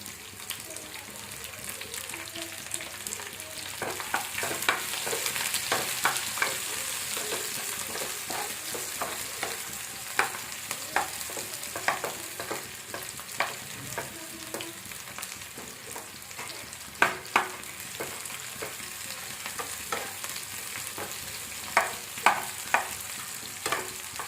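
Cumin and onions frying in oil for a north Karnataka style brinjal curry, a continuous soft sizzle with repeated spoon scrapes and clinks against the pan, no talking heard.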